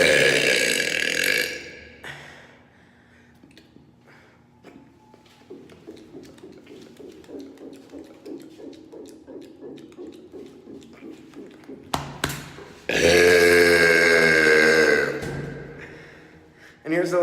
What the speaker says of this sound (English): today I'm doing stairwell burping